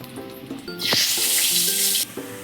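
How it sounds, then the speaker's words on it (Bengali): Dried red chillies and black cumin go into hot oil left from frying fish, setting off a sudden loud sizzle that holds for about a second before cutting off, over soft background tones. "সেই তেলেই আমরা শুকনো লঙ্কা আর কালো জিরে দিয়ে দেবো"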